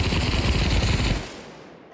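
An MG42 machine gun fires a rapid, loud burst in the Pavlov VR shooter game, a dense rattle of shots that cuts off abruptly after a second and a quarter, leaving a short fading tail.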